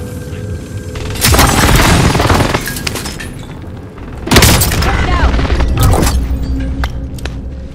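Precision airstrike explosions in Call of Duty: two heavy booming blasts, each rolling into a long rumbling roar, the second after a short lull, loud and close amid game noise.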